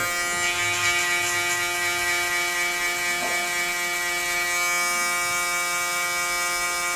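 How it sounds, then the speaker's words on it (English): A steady electric shaver buzz on hair at the temple during a skin fade haircut runs without a break, a close mechanical hum with a fixed pitch and no talking. "going down with my shaver as well now"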